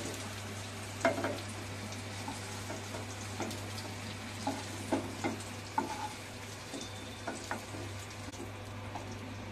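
Paneer fries gently in hot oil with a faint, steady sizzle and soft irregular pops and taps, quiet and close with no voices.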